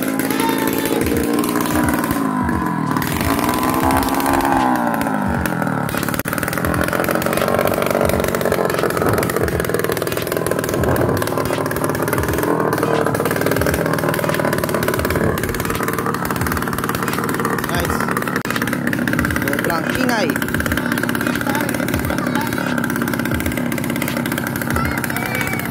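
A Kawasaki KMX motorcycle engine runs steadily close by, a loud, continuous buzzing drone with small rises and dips in pitch over about twenty-five seconds.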